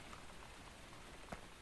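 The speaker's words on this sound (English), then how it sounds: "And of course it's raining." Steady soft rain in the game Factorio, a faint, even hiss with a few light patters, heard alone with no talk.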